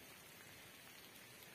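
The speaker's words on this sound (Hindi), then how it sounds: "आपको आवाज़ भी सुनाई दे रही होगी बारिश की।" Steady rain falls outdoors on a cold day among small plants and a field where greens are being gathered for cattle, a continuous even hiss of drops with no voices.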